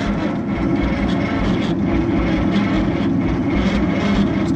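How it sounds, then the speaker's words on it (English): An old engine cranks over on its starter with the solenoid bypassed, making a loud, steady, continuous whirring drone that holds even throughout. "We got an engine that'll turn over."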